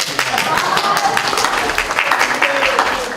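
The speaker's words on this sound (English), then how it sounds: "Well, clap." Audience clapping at an introductory talk, a brief burst of close, uneven claps from a small group with a voice faintly underneath.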